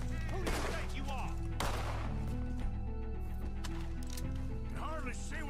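Gunfire during a Red Dead Redemption 2 shootout, with a few loud sharp shots over a constant bed of dense game music and ambience, plus voices shouting.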